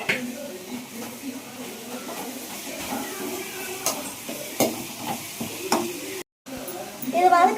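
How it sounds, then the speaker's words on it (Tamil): Chopped tomatoes sizzle in hot oil while being sautéed for a mutton curry, a steady frying hiss broken by clacks and scrapes of stirring in the pan, close up. "தக்காளி கொட்டியாச்சு. திருப்பி வதக்குவோம்."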